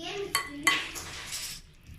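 A utensil scrapes and clinks against a bowl while muffin batter is mixed by hand, with a couple of sharp knocks and stirring scrapes up close, and voices murmur faintly in the background.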